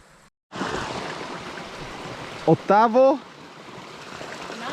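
A mountain stream rushes steadily nearby in the hills around Collina, Forni Avoltri, a broad continuous wash of water, with a short spoken question over it.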